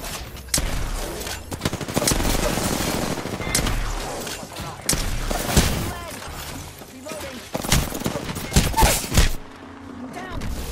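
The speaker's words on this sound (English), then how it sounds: "They're shooting at me." Bursts of rapid gunfire in the shooter game Apex Legends, loud overlapping volleys and single shots with in-game callout voices heard between them.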